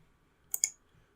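Computer mouse clicked twice in quick succession, a close, crisp pair of clicks against near silence.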